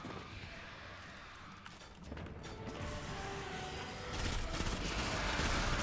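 Sustained gunfire from a weapon in Destiny 2: Shadowkeep fighting through a Hive keep, a dense continuous rattle of rapid shots and mechanical clatter that swells louder toward the end, with no talk.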